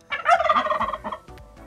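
A turkey gobbles once, a loud, close, rapid rattling call lasting about a second, followed by quieter clucks.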